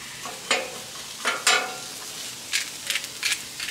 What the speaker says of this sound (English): Next, we got grilled onions.